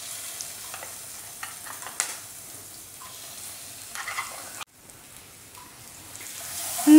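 Ground coconut with spice powders sautéing in a pan over a low flame, giving a soft, steady sizzle with occasional stirring scrapes. A brief dip near the end is followed by a louder burst, and no voices are heard.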